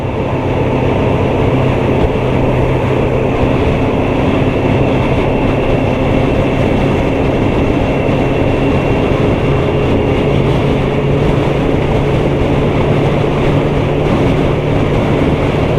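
A 53-foot tractor trailer passes close alongside on a highway, a steady loud roar of engine and tire drone with low rumbling tones that holds unbroken throughout.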